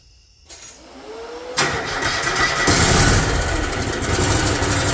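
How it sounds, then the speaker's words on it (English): A Kohler Command Pro ECV980 engine, worked on for an oil pan leak, cranks over and catches, then builds into a loud, steady running roar close by. "So crank it up and take a look at it run"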